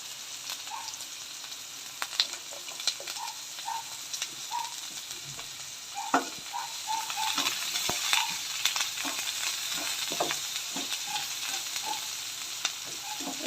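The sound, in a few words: garlic and onion frying in a pan for fish curry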